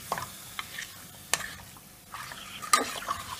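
A spoon stirs salt into Malabar mutton kuruma in a pan, with soft scraping strokes, a few sharp metallic clinks and a faint sizzle underneath, close by and without talk.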